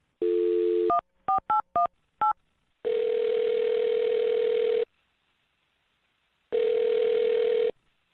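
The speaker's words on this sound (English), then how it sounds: "I'm going to dial his phone number right now" A telephone number is dialed: a steady dial tone, then a quick series of five touch-tone beeps, followed by two long ringback tones separated by silence, clean and close.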